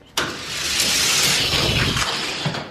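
A Hot Wheels die-cast Datsun Bluebird Wagon races down a track, its loud rushing roar kicking in abruptly and holding steady for nearly three seconds before tapering slightly.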